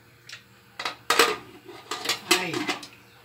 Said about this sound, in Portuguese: agora eu paro de mexer e já tampo a panela e deixo 30 minutos.